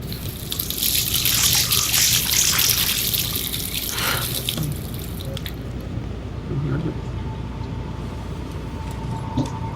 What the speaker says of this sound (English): Faucet.